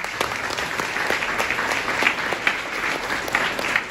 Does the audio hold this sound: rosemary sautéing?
no